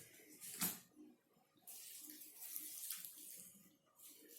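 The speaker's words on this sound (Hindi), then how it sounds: "इस तरीके से पानी छोड़ देंगे।" Water is poured from above into a bowl of cut paper pieces being soaked for papier-mâché, giving a soft splashing trickle in a few quiet bursts and a longer steady pour.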